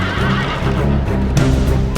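Cavalry horses neigh and whinny in a battle video game, loud and close, with a faint clip-clop of hooves beneath across two seconds.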